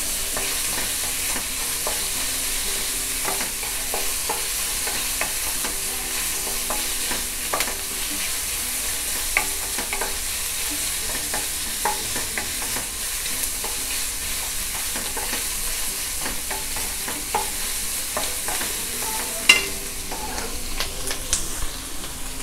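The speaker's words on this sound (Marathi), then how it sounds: "इथे ग्रेव्हीसाठी आपण कांदा परततोय" Chopped onion sautéing on a high flame in a pan as the base for a paneer mushroom matar masala gravy, giving a steady close sizzle broken by frequent scraping and clicking stirs.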